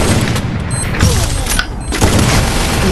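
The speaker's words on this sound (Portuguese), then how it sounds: "Um tiro." Dense bursts of gunfire and booms fill a loud, chaotic game soundscape, with muffled voices underneath.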